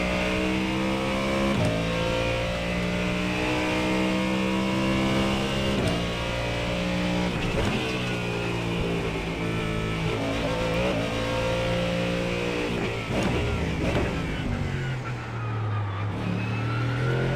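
Ford Mustang GT3 race car in iRacing at Magny-Cours, its engine revving hard and climbing through the gears with stacked harmonic whine, a steady loud drone across the whole run with brief dips at shifts.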